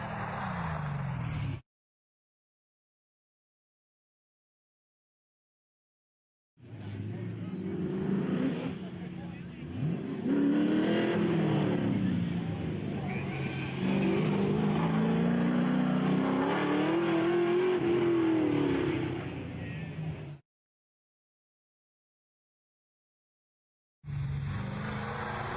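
A race car at a mountain hill-climb event revs hard and climbs in pitch through the gears, bouncing off the rev limiter, while a commentator talks over it. The engine sound cuts out in silent gaps before and after.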